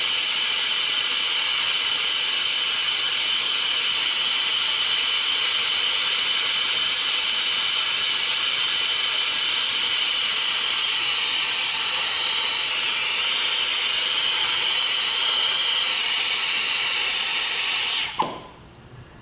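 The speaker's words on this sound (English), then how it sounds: "So I want to add some solder around the perimeter." A torch roars with a loud, steady hiss while silver soldering a joint, holding constant for most of the time before cutting off abruptly near the end.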